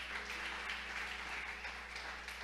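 A church congregation applauding, a steady wash of many hands clapping at a moderate distance over a low droning background hum, with no break in the sound.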